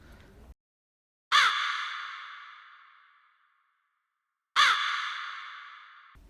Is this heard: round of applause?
no